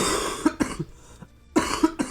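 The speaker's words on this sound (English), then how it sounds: "We shouldn't be coughing into the microphone." A person coughs close into a microphone, two clusters of sharp, harsh coughs with a short quiet gap between them, loud and alone.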